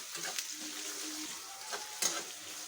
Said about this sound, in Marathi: एक कांदा टाकणार आहोत बारीक चिरलेला कांदा लाल थोडासा लालसर होईपर्यंत पर भाजून घ्यायचं